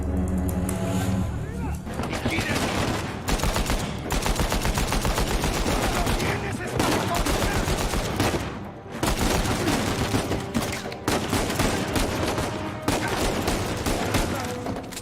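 Gunfire fills a firefight in the Uncharted game with dense, rapid bursts of shots and booming impacts, loud and nearly continuous for the whole clip with a couple of short breaks, while someone talks over it.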